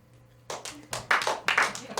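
A few scattered people in a small comedy audience clap hands, a handful of sparse, uneven claps starting after a quiet moment, close and moderately loud.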